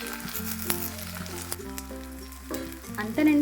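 Fried cashews get stirred into a frying brinjal curry, a loud close sizzle with a few spatula scrapes and a steady hum in the background, and no one speaking.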